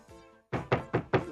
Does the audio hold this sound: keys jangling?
no